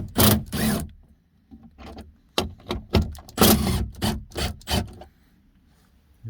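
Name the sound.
loosening bolts on a Jeep Grand Cherokee door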